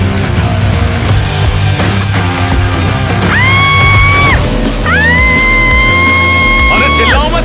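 A woman riding pillion on a speeding motorbike lets out several long, rising screams over a loud, constant engine and road roar.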